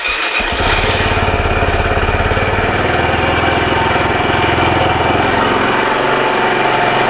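A Kawasaki Z125 Pro motorcycle fires up after a brief start and settles into a loud, steady, high-revving run that stays close and continuous throughout, with no talking.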